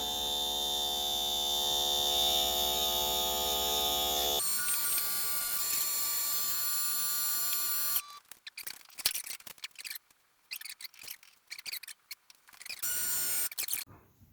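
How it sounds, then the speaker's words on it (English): An outboard motor's trim/tilt pump motor runs with a steady electric hum and whine for several seconds, then gives way to uneven, intermittent mechanical noise. "The motor is running. You can hear it run"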